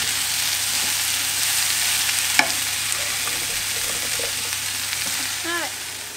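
Courgettes, peppers and chickpeas frying in a pan make a steady close sizzle with stirring scrapes and a sharp clink of a utensil partway through, a faint voice briefly near the end.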